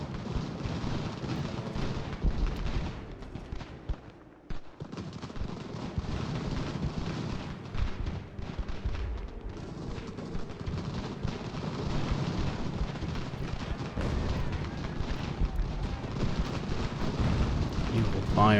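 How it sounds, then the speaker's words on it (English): Cannon fire in the Ultimate General: American Revolution video game: a dense, continuous rumble of artillery and battle noise, loud and steady for the whole stretch, with only a brief dip near the middle. "Cannons, yeah, you're firing into that general block of red"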